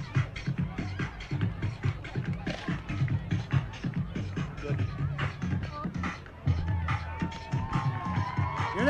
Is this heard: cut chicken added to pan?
no